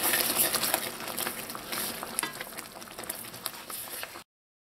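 Guava being stirred into dissolved sugar in a pot while making guava jam, giving faint, irregular scraping and soft sloshing at a modest level before cutting off into silence near the end.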